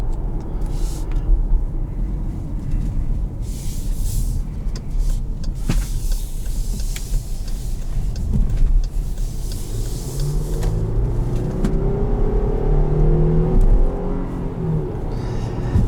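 A 2021 Jeep Grand Cherokee Trailhawk with the 3.6 Pentastar V6 cruises along a road, a steady low engine and road rumble heard from inside the cabin, with the engine note rising gradually later on.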